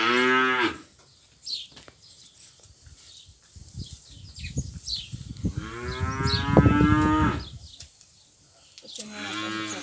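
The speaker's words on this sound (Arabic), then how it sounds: "بقرة الصغيرة" A small cow moos loudly and close by in open countryside, two long drawn-out lows with a shorter one at the end, with rustling and movement between them.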